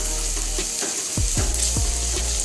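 Onions sizzle and fry steadily in a pan after garlic paste is added, a loud, continuous, close crackle while cooking an egg masala. A few faint clinks of a spoon stirring are heard under it, and nobody speaks.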